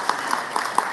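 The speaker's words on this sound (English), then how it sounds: "Let's welcome them with a round of applause" Audience applause at a Filipino Canadian community forum panel introduction, a brief burst of clapping with a few sharper claps standing out, moderately near.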